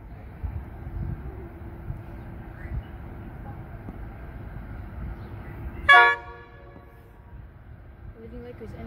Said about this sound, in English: Leading loco is an NR class.